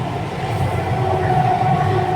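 Interior of a moving Bengaluru metro train on a rainy day, a steady loud rumble of the carriage running along the track with a faint hum, no talking.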